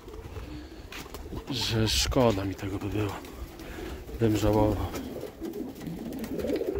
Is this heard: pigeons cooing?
yes